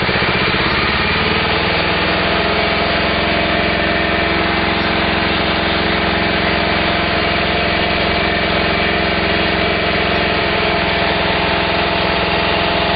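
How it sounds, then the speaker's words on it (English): A small gasoline engine running on hydrogen (HHO) idles loudly and steadily up close, a constant buzzing drone with no pauses. "If I take the hydrogen away, this engine will probably stall."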